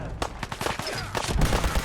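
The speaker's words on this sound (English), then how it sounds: "Oh, someone's got a machine gun." Machine gun fire in the video game Fallout 4, several rapid bursts of shots crackling over a low rumble, fairly quiet in the mix and close together over under two seconds.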